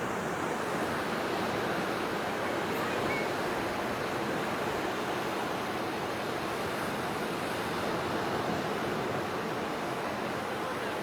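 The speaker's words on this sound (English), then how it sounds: "I will leave you with the last view of the ocean" Ocean surf rolls in continuously, a broad, steady roar of breaking waves with some wind buffeting the microphone and no voices.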